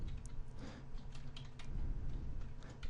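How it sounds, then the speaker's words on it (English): Commands typed on a computer keyboard while working at a Cisco IOS device command line, a quick run of light key clicks and taps across the whole stretch, fairly close and moderately quiet, with no one talking over it. "If I type en and press tab, it fills in the rest of the word."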